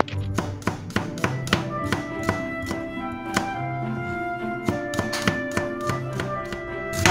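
A knife slices garlic thinly on a cutting board for a prawn noodle stir fry, making a steady series of close, crisp taps over soft background music.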